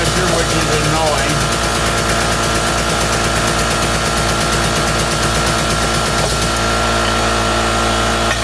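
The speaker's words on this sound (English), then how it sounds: "I'm using the small air compressor, which is annoying." A small air compressor runs loudly and steadily in a workshop beside a Powermatic machine, a constant mechanical drone with rapid rattling pulses filling the whole clip.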